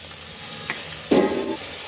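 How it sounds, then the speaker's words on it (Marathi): Onion frying with spices such as turmeric and asafoetida in a pan for Punjabi rajma, a steady sizzle with a spoon stirring and scraping through it midway. "1-2 मिनटं कांदा परतून घ्यायचा. कांद्याचा कच्चा पण जाऊसपर्यंत शिजवून घ्यायचं."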